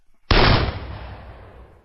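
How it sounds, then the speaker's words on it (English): A single handgun shot cracks out sharply and very loud, then leaves a long, dark room-like decay trailing off over more than a second. "Finally, I fired my first shot."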